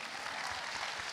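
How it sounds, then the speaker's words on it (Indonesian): An audience claps together in a short, dense burst of applause, steady and fairly loud throughout, with no voices standing out. "Tepuk tangan dong."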